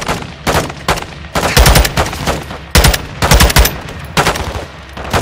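Heavy automatic gunfire from an airborne gun run in the video game Ghost Recon, with loud rapid bursts that recur in dense volleys over several seconds.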